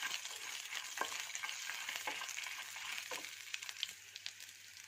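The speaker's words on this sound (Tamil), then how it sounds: "இப்போ பூண்டு கருவேப்பிலை சேர்த்துக்கலாம். சேர்த்துட்டு 2 செகண்ட்ஸ் வதக்கிடுங்க." Ginger, garlic and curry leaves sauté in oil for a ginger pickle, giving a soft, steady sizzle with light clicks of stirring, quiet and close, with no talk.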